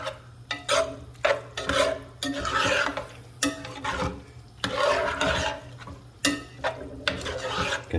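A spoon scrapes and rubs through a pot of crawfish étouffée in repeated strokes of rasping friction, close and fairly loud, with a faint sizzle underneath and no speech.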